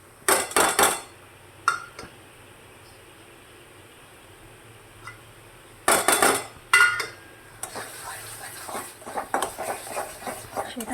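Whole-spice masala paste gets stirred into chicken in a metal pan, with a few sharp scraping clatters of a utensil against the pan between quiet stretches, close by and without talk.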